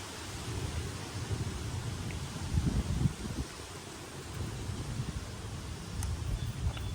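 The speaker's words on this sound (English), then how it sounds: "Oh, it's windy." Steady wind blowing and buffeting, with low rumbling gusts and faint rustling throughout, no voices.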